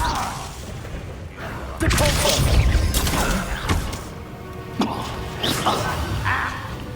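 A Confringo fire-blast spell cast in Hogwarts Legacy lands with a sudden whooshing crash and heavy thump, followed by several sharper impact bursts over continuous game noise.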